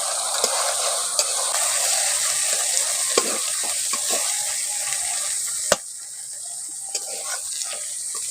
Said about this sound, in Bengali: ওটাকে কিন্তু হালকা আঁচে ভালো করে কষে নিতে হবে, বেশি তাপ দিলে মশলা কিন্তু পুড়ে যাবে